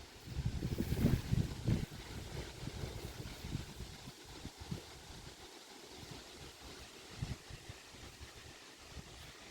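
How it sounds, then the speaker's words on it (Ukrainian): Gusting wind buffets the microphone outdoors, strongest early on, then settling into a softer, uneven rush with occasional bursts. "Ох і вітряно."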